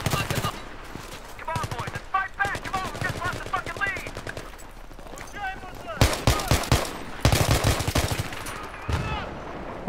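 Rapid gunfire crackles in a Battlefield 3 firefight, dense bursts of shots stacking in quick succession and swelling louder in the later half, with a voice speaking over parts of it.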